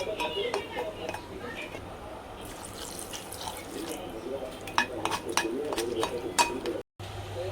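Ingredients for paneer tikka masala biryani being mixed in a pot, with scraping clinks and stirring over a running-water wash and faint background voices.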